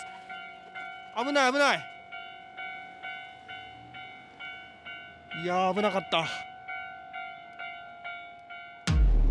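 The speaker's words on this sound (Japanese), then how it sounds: "踏切が今鳴ってきました。" A railroad crossing bell in Hirakata, Japan, clangs in a steady, rapid rhythm throughout, while a voice speaks briefly twice over it and a loud noise bursts in at the end.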